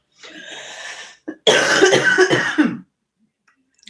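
A person coughs and clears their throat close to the microphone, first a rough raspy throat clear, then a brief catch and a loud run of harsh hacking coughs, followed by silence.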